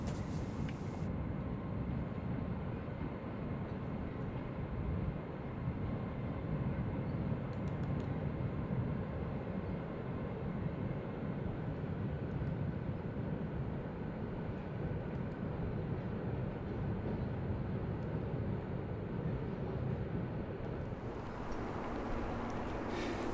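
A train rumbles steadily across the Royal Albert Bridge, Brunel's wrought-iron railway bridge over the Tamar, heard from below as a continuous loud low roar with metallic hiss that holds for about twenty seconds before easing.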